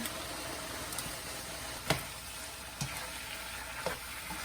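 Cooked spaghetti tossed with meat and vegetables in a hot pan for drunken noodles, a steady sizzle with occasional tong clacks against the pan, close and alone.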